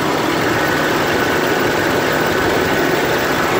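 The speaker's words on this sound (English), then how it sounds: "the engine otherwise sounds quiet" A 1990 Toyota Land Cruiser engine idling steadily, a loud, close, continuous low rumble with even broadband noise and no voices.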